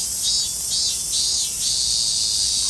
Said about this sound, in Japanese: まずセミの中でも一番よく聞くこのセミの声を